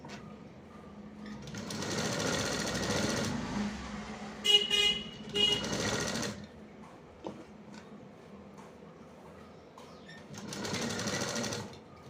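A sewing machine stitches a sleeve onto a blouse in repeated runs, its rapid mechanical whir starting and stopping in three main bursts with quieter handling noises between, close and fairly loud, with no talking.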